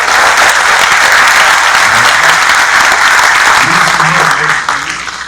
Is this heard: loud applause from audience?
yes